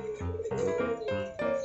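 A turtle dove coos in a series of soft, hollow, repeated notes, close and clear with little background noise.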